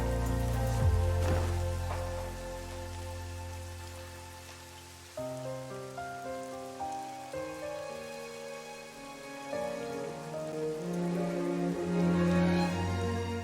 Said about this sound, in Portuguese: As cenas de chuva são clássicos nos doramas